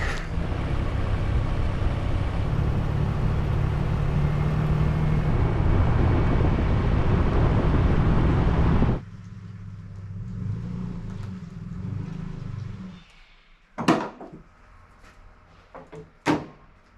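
A pickup truck heavily loaded with logs, suspension bottomed out and tires squatting, rolls along slowly with a low steady engine rumble that cuts off, followed by a few sharp knocks.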